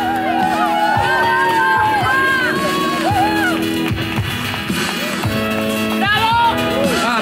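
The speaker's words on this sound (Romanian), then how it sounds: "Aplauze." A crowd at the Bikini Race Arena Platoș Păltiniș 2016 cheers, whoops and shouts over loud music, with lively noise swelling and falling throughout and voices calling out near and far.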